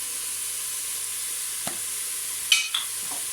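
Pasta and chicken being stirred in a pan over a steady sizzle, with a couple of soft scraping strokes against the pan bottom, close up and with no talking.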